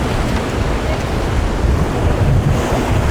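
Loud, continuous ocean surf rolls in at Sawarna beach, with heavy wind buffeting the microphone throughout and no clear break in the roar.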